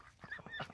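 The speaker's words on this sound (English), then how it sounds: "The ducks are spazzes, as usual." A short burst of honking, quacking calls from ducks, a few quick squawks close by.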